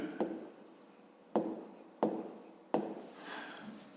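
Pen or pencil writing out a fifth-grade math exercise by hand, heard as four scratchy bursts of strokes on paper separated by short pauses, close and fairly quiet, with no talking.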